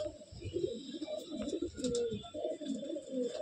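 Andhra pigeon in a loft cooing in low, rolling bursts close by, with faint chirps in the background.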